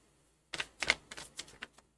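A deck of tarot cards is shuffled in a quick series of crisp riffling clicks and slaps, starting abruptly after silence and fading out after about a second and a half.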